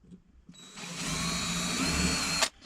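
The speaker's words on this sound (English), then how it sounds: "So I'm going to drill some of the wedge out around where these nails are" A power drill bores into the wooden wedge of an axe head around embedded nails, one sustained whirring burst of about two seconds that starts abruptly and cuts off, close and loud.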